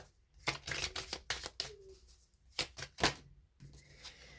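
Tarot cards shuffled by hand in a series of crisp riffling bursts and soft slaps, close and fairly loud, with short pauses between handfuls and no talking.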